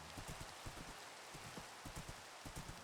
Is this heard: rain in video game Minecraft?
yes